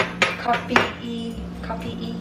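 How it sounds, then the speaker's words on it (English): A fork clinks against the inside of a coffee cup as it stirs, giving a few quick close taps and scrapes over a low background hum. "I'm gonna take this fork that I found right here and stir so everything dissolves"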